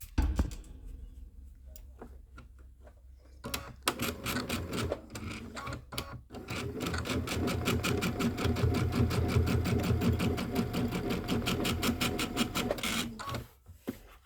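A sewing machine stitches quilt pieces for an autumn star block, starting with the needle down, running in a steady rapid chatter that builds and holds for most of the stretch before stopping near the end.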